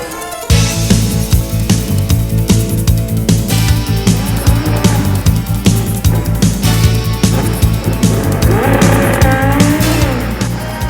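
A drag racing motorcycle at a 1993 Prostar Summernationals sportsman semi-final roars down the track in a sustained, loud high-revving run, the engine note shifting as it accelerates, with the crowd and announcer faintly underneath.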